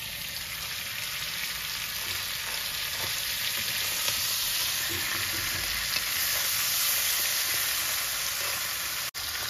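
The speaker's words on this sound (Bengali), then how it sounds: "আমি দিয়ে দেবো যে আদা রসুনটা" Ginger-garlic paste sizzles in hot frying oil for a masoor dal and goat head curry, producing a steady, dense hiss throughout with faint stirring ticks and a brief dropout near the end.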